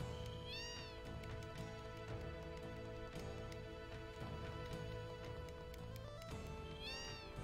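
Several cats meow in a Final Fantasy VII game scene, two clear arching meows near the start and end over a steady background of game music and ambience.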